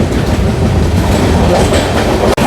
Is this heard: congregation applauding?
no